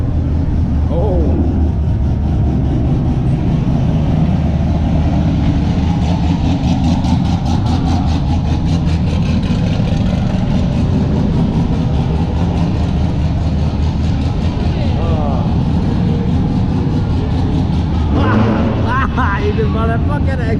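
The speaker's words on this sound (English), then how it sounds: "Somebody be revving up there." Several car engines, including a Honda and a Camaro, idle and rumble loudly through an underground parking garage during a car meet, the deep drone steady throughout with occasional revving and people chattering nearby.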